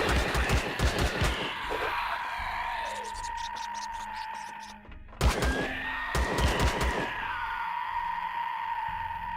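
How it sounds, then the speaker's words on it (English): Gunshots in the survival game Empyrion Galactic Survival, rapid repeated shots in two clusters separated by a short lull, loud and close over a steady background hum. "So that shooting that I did initially wasn't hitting them, it was hitting a fecking map table"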